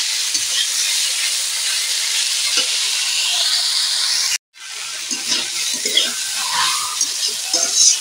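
Water spinach greens fry in a wok while being stirred constantly, a bright hissing sizzle with soft scraping strokes, cut by a brief silent gap midway before the frying resumes, no voices heard.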